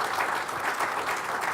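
Audience applause at a live interview event in Melbourne, a dense steady clapping from a full room, moderately loud and continuous.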